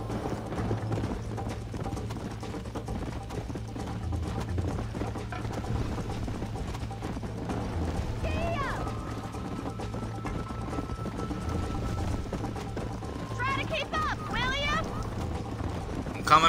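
A horse gallops in Red Dead Redemption with steady, continuous hoofbeats under game ambience, joined later by swooping whistle-like effects while a player voice talks over it.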